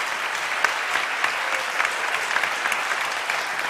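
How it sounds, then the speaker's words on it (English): Audience applause at a Manitoba provincial election debate on poverty, hunger and homelessness: a steady, dense round of clapping from a hall crowd, even and sustained throughout with no voices on top. "a big round of applause for our"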